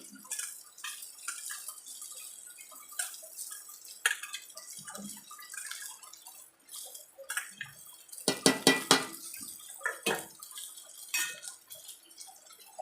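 Okra pieces tipped into a pan of roasted masala for a spicy Maharashtrian bhindi bhaji, a dense cluster of clattering, wet drops and clinks near the middle amid scattered kitchen knocks, fairly faint and without talk.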